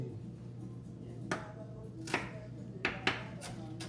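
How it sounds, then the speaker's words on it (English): A knife chops food for Belizean garnachas on a board: five faint, sharp chops at an uneven pace over a low background hum. "let me make sure everything is chopped correctly"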